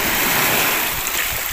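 Surf breaking on a beach at Padre Burgos, Quezon: a steady, close wash of rushing water with no clear gaps between waves during the short stretch.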